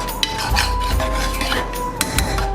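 A metal spoon scrapes and clinks steadily around a pan as a thick homemade sweet mixture cooks, with continuous close scraping broken by sharper clanks against the pan's sides.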